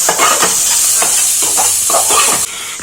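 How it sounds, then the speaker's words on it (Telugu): Onions and curry leaves fry in a pan while being stirred, with a loud, constant sizzle and rhythmic scraping strokes close by. "తర్వాత ఆనియన్స్ వేసుకొని కలుపుకోవాలి"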